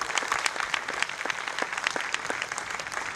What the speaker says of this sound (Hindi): एक जोरदार ताली अपने आप के लिए।